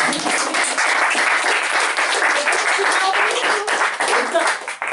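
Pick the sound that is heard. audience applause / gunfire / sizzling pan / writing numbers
audience applause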